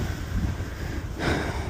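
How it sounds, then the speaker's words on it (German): Wind blowing outdoors across a microphone, a continuous rumbling rush that swells in a stronger gust near the end, loud and close with no voices. "Auch zu windig, ne?"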